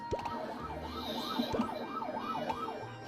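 Police car sirens wail in a GTA video game chase scene, a steady repeating rising-and-falling siren cycle sounding continuously at moderate level over engine rumble, with no talking.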